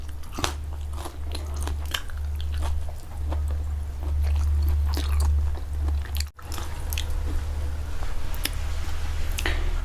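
Close, steady crunching and wet biting while eating a spicy Thai instant-noodle salad mixed with raw squid, with repeated bites and no talking, over a constant low hum.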